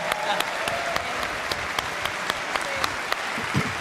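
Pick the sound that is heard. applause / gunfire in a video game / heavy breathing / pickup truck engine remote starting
applause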